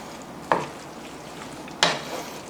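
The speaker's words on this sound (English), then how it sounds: "Just make sure when you stir, each strand of that spaghetti gets coated with the sauce" Spaghetti being stirred through shrimp scampi sauce in a pan, two distinct wet scraping strokes about a second apart over a low, steady background.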